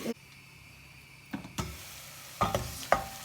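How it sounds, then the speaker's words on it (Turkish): Onions sauté in a pot for Artvin-style salty ayran soup, with a soft steady sizzle broken by several scraping stirs of a spoon against the pot. "Soğanları kavruldu."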